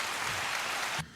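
Steady hand clapping from a few people in a podcast room, a dense, close patter that runs evenly and then cuts off abruptly near the end.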